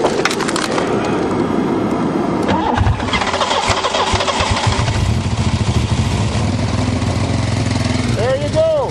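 A Buick 3.8 engine in a car that was crushed by a 20-ton bulldozer runs loudly and close, rising and falling as more gas is fed in, with a steady rumbling roar throughout.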